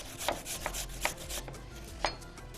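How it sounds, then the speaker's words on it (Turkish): Quiet, close knife taps on a cutting board, a few irregular chops finely dicing food, with soft scraping in between. "Şöyle minik minik de doğrarsanız çok daha iyi oluyor efendim."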